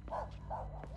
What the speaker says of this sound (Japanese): 犬の声。